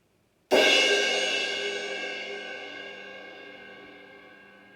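One crash cymbal struck with a glancing swipe, giving a softer, breathy wash that sustains and fades gradually, with nothing else playing.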